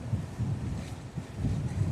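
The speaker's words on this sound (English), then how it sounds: "Yeah, it's windy." Wind buffets an outdoor microphone near a track on a hot day, producing a steady low rumbling roar in gusts with no voices.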